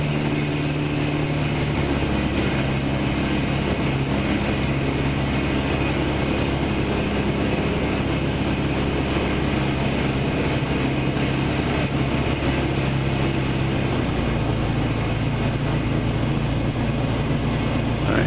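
A Cubcrafters Sport Cub light aircraft drones steadily in flight, its engine a loud, continuous close hum heard from inside the cabin with no talk, the tone dropping slightly near the end.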